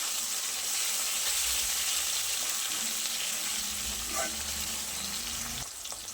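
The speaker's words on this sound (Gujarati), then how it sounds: "હવે કટ કરીને રાખેલા ટામેટા ઉમેરી દઈએ। અને પણ થોડી વાર મસાલા સાથે સાંતળી લઈએ." Chopped tomatoes sauté with spices in a pan for a Gujarati thali, giving a steady, close sizzle with occasional stirring scrapes and no voice over it.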